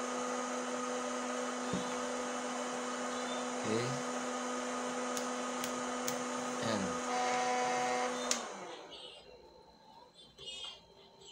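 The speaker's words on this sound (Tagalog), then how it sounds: "Maugong yung motor." An electric fan plugged into a 2000W modified sine wave inverter gives a steady, loud buzzing motor hum with harsh tonal whine, running continuously before cutting out, with a few short spoken words over it.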